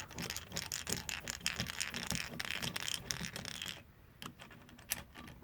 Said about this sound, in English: let's grab a screwdriver here just to get the last few threads